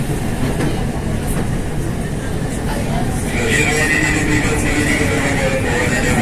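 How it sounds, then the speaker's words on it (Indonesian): MRT metro train passing at a station, a steady loud rumble of wheels and rail noise that swells with a rising high-pitched whine and screech partway through, with talk present. "Nah, ini MRT sini."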